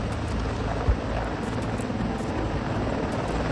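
A CH-53E Super Stallion heavy-lift helicopter roars close by, its loud, steady engine and rotor drone filling the scene with a continuous rhythmic thump and no voices.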